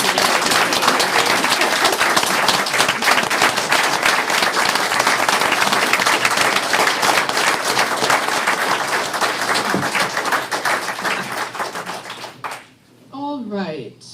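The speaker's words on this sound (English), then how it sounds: "Please join me in giving all of our speakers another round of applause." Sustained audience applause fills a panel event in Seattle, loud and dense for about twelve seconds before tapering off, after which a voice begins speaking over the fading claps.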